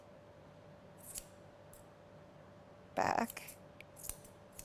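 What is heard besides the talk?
scissors notching hair over a poodle's ear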